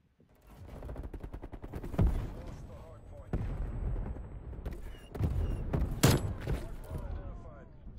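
Rapid automatic gunfire from the shooter game Black Ops Cold War, with a Galil rifle, rattles in dense bursts punctuated by louder single cracks and impacts, close and loud under an excited player's voice.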